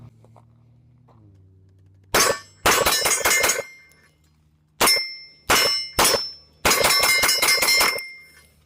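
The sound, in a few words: Sig P211 pistol shots with metal recoil plug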